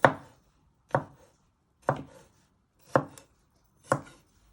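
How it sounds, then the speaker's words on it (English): A kitchen knife chops garlic on a cutting board with five crisp, evenly spaced strokes about a second apart. Each chop is close and clear, and the pauses between strokes are quiet. "You just want to finally slice it one way."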